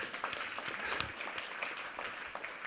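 A conference audience applauds, producing a steady patter of many hands clapping together, quiet and somewhat distant, without a break.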